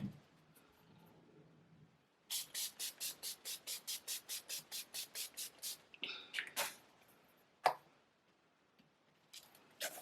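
A quick burst of rapid pump-spray hisses of setting spray, about fifteen in a steady rhythm, followed by a few scattered single sprays, close and crisp.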